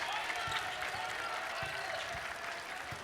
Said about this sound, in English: Liberty crowd appreciating the solid possession